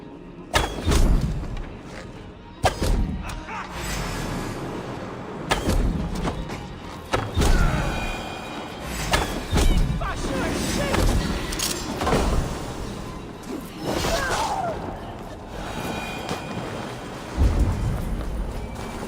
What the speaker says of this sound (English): That sound. Is it thunder? Footsteps.